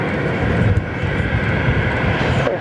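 An airliner taking off from runway 03 produces a steady, loud roar of jet engines at full power, continuous and unbroken throughout.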